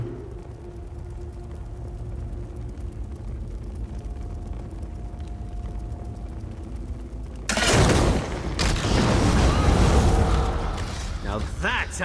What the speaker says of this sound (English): Let's blast away out of here.